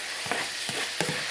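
Beef in a hoisin sauce reduces in a hot pan with a constant sizzle. Three soft stirring scrapes come at roughly even intervals.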